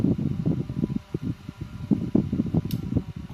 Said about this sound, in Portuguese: Olha o compressor funcionando, olha o barulho do motor funcionando aí, ó.